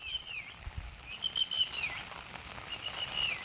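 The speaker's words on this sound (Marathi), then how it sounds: "समोर आपण बघतोय टिटवी उडते आणि टिटवी ओरडते आपल्याला आवाज येतो" A lapwing calls repeatedly during light monsoon rain out in the countryside, its shrill, rising and falling cries fairly faint and distant over a soft, steady patter of rain.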